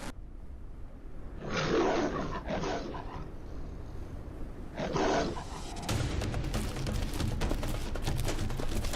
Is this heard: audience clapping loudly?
no